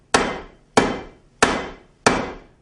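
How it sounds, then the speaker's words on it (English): Four evenly spaced, sharp hammer blows strike an autoclaved aerated concrete block, each a loud close impact with a short decaying ring, with no talk between them. "Let's see if I can break with a hammer the AAC block."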